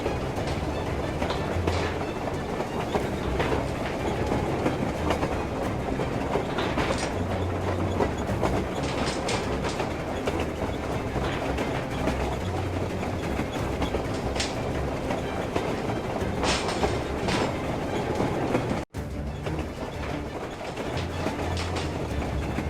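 A moving train rolls along rails in the video game Metro Exodus, a continuous loud rumble with rhythmic clickety-clack and occasional metallic knocks, steady throughout.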